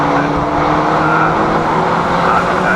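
Caterham race cars at full throttle around the Brands Hatch circuit during a Caterham Academy race, a loud continuous engine roar with no pause across the whole stretch and no voices.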